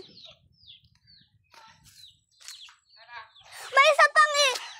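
A green bird in a rural provincial setting chirps in short, high calls spaced across a few seconds, ending in a louder burst of sharp, repeated notes, with soft voices in the background.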